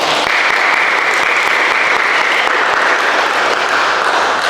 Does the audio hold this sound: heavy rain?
no